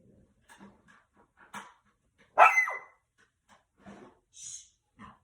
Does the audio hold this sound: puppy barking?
yes